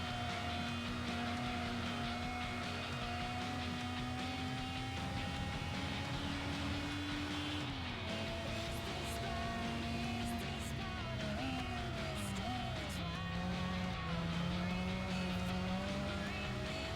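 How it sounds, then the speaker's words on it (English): Car engine in the video game Gran Turismo 4 whines and rises through gears, pitch climbing then dropping at each shift, a steady, fairly quiet race drone with faint squeals and no talking. "Has a very unique engine sound."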